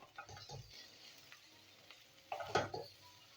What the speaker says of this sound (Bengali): ভাজা কুমড়োগুলো এর সাথে মিশিয়ে দেবো।